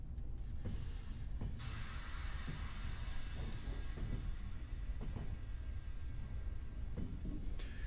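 Train braking in Trans-Siberian Railway Simulator: a quiet, steady low rumble of rolling rail cars with a long high hiss of air brakes, some soft clunks throughout.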